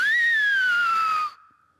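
A single long human whistle from the Silbo whistled language of Tenerife, rising briefly then sliding slowly downward in pitch, loud and clear, before cutting off into a faint lingering tone.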